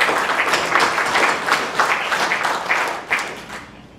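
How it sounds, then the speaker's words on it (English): Applause from an audience in a city council meeting in Loveland, a dense steady patter of clapping that holds for several seconds before thinning out toward the end. "Please refrain from applause and other outbursts."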